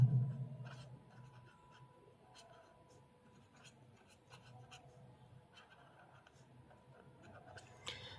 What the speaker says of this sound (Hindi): फ्रेंड्स हमने जो दिया है वो लिख लिया है